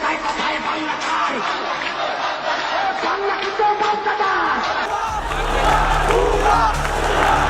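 A large crowd of students chants slogans in the street, a dense roar of massed voices and shouts that swells louder and more sustained toward the end.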